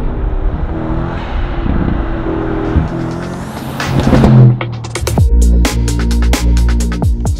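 A Mercedes-AMG GLE63S with an Akrapovic Evolution Line exhaust revs loudly up close, the engine building to a roar before sharp crackles and pops burst out of the exhaust.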